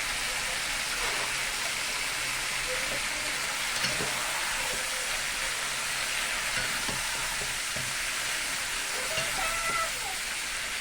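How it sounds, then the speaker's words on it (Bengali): Cauliflower, flat beans and potatoes with coriander and chili powder are stirred in a frying pan, giving a steady, close hiss and sizzle with faint scraping knocks scattered throughout. "সব মশলা দেওয়ার পরে একটু নাড়াচাড়া করে দেওয়া হচ্ছে"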